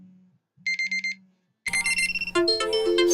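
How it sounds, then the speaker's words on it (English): Several phone alarms go off at once, first a short beeping pattern over a low hum, then overlapping electronic ringtone melodies stacking up loudly with no talking. "All my alarms is going off at the same time"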